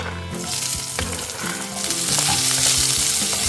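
Onion goes into hot oil already frying with garlic, and a loud, close sizzle rises and holds steady, crackling continuously with a few scraping stirs.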